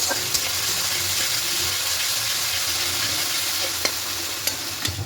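Tomato and onion sautéing with salt in a pan for a spicy egg curry, a steady broadband sizzle with scattered clicks of a spoon stirring, close and continuous with no talk.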